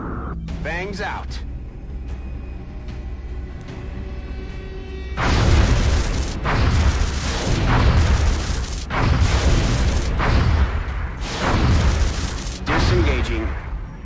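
In XCOM: Enemy Unknown, an interceptor attacks a UFO with a run of loud, booming weapon bursts. They come in repeated heavy clusters after a quieter opening with beeping interface tones, and a voice talks over the action.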